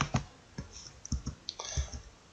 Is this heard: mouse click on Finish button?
yes